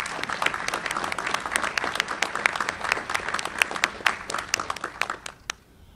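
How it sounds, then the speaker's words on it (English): Audience applause at a Navy change of command ceremony, a large crowd clapping steadily in a hall for about six seconds before it tapers off near the end. "How about a big round of applause for Tom and all that he's accomplished?"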